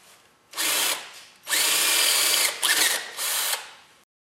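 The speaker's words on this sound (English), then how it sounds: "I'm going to center punch some divots around here to drill my primary combustion air holes." A power drill bores primary combustion air holes into a 1/8 to 3/8 inch pipe coupler for a homemade blowtorch, running in three loud, close bursts of steady whine, with short pauses between them.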